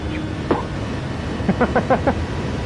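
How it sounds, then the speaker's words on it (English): A series of five quick, sputtering engine pops from a Gr.3 race car upshifting at the Nordschleife in a video game, coming after a single earlier burst, over a constant game-engine drone. "This sort of thing sounds like somebody's spitting when it upshifts."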